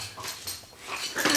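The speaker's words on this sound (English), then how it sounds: "I'm thinking your dog is really loud." A dog barks loudly and excitedly indoors in a shop, a few sharp yips and whimpering bursts close to the listener, with no talking over it.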